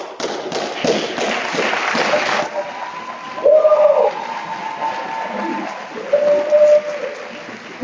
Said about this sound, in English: Let's give another round of applause to our candidates, our board.